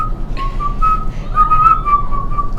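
A person whistles a wavering, breathy tone close up, the pitch sliding up and down in short phrases.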